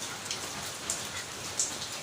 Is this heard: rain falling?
yes